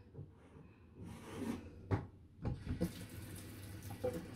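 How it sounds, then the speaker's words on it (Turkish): Hot water runs from a kitchen tap during home bread making, heard as a faint, intermittent splashing stream mixed with rubbing and handling noises at close range. "sıcak suyum akıyor"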